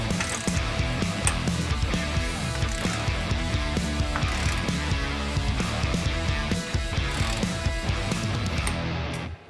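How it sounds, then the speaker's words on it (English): A ratcheting torque wrench clicks continuously while tightening the bolts of a TRD skid plate on a 2024 Toyota Tacoma to 27 foot-pounds, a loud, dense mechanical rattle that carries on throughout, close up. "We have our torque wrench. We are gonna torque all these down to 27 foot-pounds."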